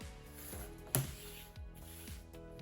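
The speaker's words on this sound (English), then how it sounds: "I'm gonna take a quilting ruler and my rotary blade, and I'm just gonna square this really quick just to make it nice and straight" A rotary blade run along a quilting ruler to square up and trim the edges of a baby quilt, a single sharp cutting stroke near the middle amid faint rustling and handling of fabric, close and fairly quiet.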